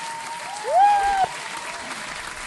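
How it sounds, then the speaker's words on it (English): Audience round of applause at a live performance, a steady spread of clapping throughout, briefly topped by a bright rising-then-held tone like a whistle or vocal note in the middle. "let's give her a round of applause"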